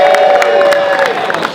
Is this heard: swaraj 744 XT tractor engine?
no